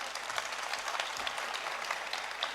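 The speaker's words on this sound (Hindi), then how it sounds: "जरा एक बार ताली बजाइए," An audience at a poetry recital gives a steady round of applause. The dense, even clapping is heard from a moderate distance and stays unbroken throughout, with no speech over it.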